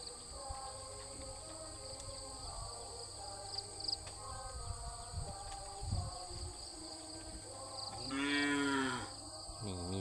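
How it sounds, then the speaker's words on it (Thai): A cow moos once, loud and drawn out, near a pond by rice fields in rural Laos, with crickets and insects chirring steadily in the background of an open-air morning. "นี่มีเสียงงัวหองนำ"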